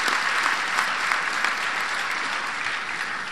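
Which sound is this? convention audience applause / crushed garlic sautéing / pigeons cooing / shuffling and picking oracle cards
convention audience applause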